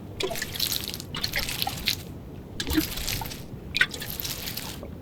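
Crops are watered in the farming game Grimshire, with repeated splashy drips and trickles in separate bursts at moderate volume, no talk.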